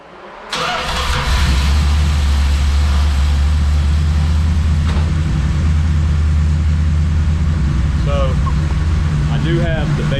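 A Mopar 318 V8 fitted with an aftermarket starter cranks and catches, then settles into a loud, steady, rumbling idle with the base timing set slightly high. Someone talks briefly near the end.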